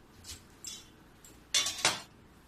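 A metal thali plate is set over a container of mango pickle, giving a few faint clinks and scrapes before two louder, bright metallic clatters as the plate settles, in an otherwise quiet kitchen.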